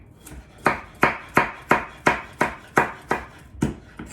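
A knife slices rolling onions into rounds on a cutting board in a home kitchen, about ten crisp, evenly spaced chops close by, with a brief spoken remark over them.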